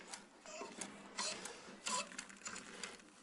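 A Mercedes diesel fuel pump is worked by hand, its check valve clicking in quick irregular bursts of light mechanical taps, quiet and close.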